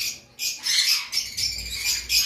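Red conure parrots at a bird market give a few sharp, bright squawks in quick succession, close and fairly loud.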